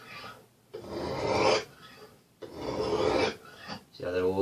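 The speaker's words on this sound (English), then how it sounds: "And you're going to make nice even strokes. You can hear this coarse stone." Two long, even strokes of a knife blade across a coarse oiled stone on a Lansky sharpening system, each a loud, close gritty rasp separated by a brief pause.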